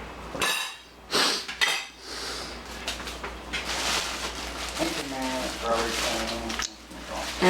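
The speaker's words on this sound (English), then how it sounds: "And so I'm about to, I'm gonna make some nice slices." Knife and fork work through a slow cooker pork roast on a plate, with clinks and scrapes of cutlery against dishware in an uneven rhythm, close and moderately loud, and a person speaking briefly in between.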